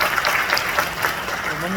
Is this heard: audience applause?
yes